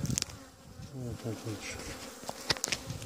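Honeybees buzz around an open beehive during an inspection, a faint hum with sharp close passes of individual bees, while a voice speaks briefly over it.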